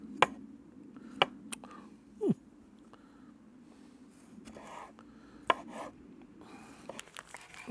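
A knife slices thinly through tomatoes on a board, giving sparse, sharp cuts spaced a second or so apart over a low background hum.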